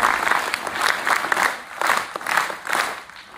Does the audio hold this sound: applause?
yes